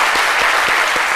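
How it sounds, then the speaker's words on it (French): Studio audience applause for Dr Philo on a French-language talk programme, a steady wash of clapping lasting the whole short moment without speech. "Merci de l'applaudir pour Info.Tox."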